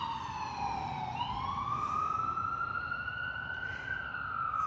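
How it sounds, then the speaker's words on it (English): A wailing ambulance siren rises and falls slowly at a moderate distance over a low traffic rumble, sounding alone without any talking. "It was an ambulance on its way to someone."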